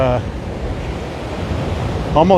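Loud wind buffets the microphone over choppy ocean waves washing in nearby at Waimanalo Beach, Hawaii, with a brief faint voice at the start and end.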